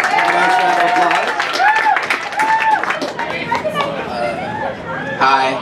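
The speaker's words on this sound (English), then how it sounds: "Nice round of applause." At a Minnesota State Fair academic contest, the audience breaks into applause while a crowd chatters and voices carry loudly over the clapping.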